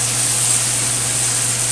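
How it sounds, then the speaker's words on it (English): Sauce for steak noodles bubbling and steaming in an electric skillet, a dense, even hiss with a soft low hum underneath, close and unbroken for under two seconds; no talking. "you check and you can see it's bubbling up here"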